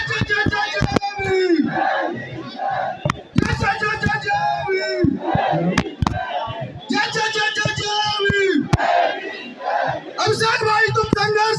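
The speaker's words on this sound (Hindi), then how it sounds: "भीड़ है, उनको देखने के लोग यहाँ पर जंतर मंतर इकट्ठे हुए हैं" A large crowd at a political rally at Jantar Mantar chants a slogan in unison, loud and rhythmic, the phrase repeating every couple of seconds amid shouting voices.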